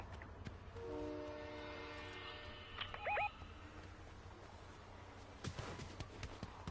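A train in the video game Fortnite sounds a horn in two-tone blasts amid steady rumbling game ambience, with a brief louder burst near the end.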